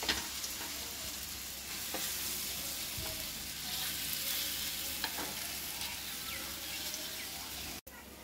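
Vegetable omelette batter frying in oil in a hot pan, a soft continuous hiss and sizzle with a few light taps, fairly quiet and steady until a brief cut near the end.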